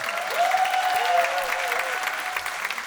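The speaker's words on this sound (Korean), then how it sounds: "박수 한번 주십시오" Steady applause from an audience at a Korean traditional performing arts talk event, continuous clapping throughout with a brief tonal whistle-like sound early on.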